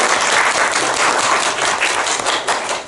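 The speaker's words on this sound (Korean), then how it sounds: "뜨거운 박수 보내겠습니다" Dense, sustained audience applause fills a seminar hall, many hands clapping steadily and loudly throughout without pause, with no voices rising above it.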